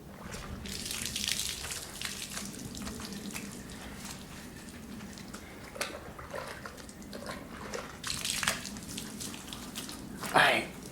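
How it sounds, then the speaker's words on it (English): Water runs and splashes quietly while a robot is rinsed and scrubbed with plain water. Soft gushes rise and fall throughout, with a sharper splash near the end and low voices in the background. "We're just washing a robot."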